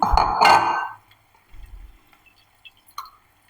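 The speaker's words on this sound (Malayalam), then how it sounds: "ഇത് അരിപ്പയിലേക്ക് ഒഴിക്കുന്നുണ്ട്" Tamarind water poured into a sieve over a stone pot gives a brief splashing pour, then sparse drips and a faint clink trailing off into quiet.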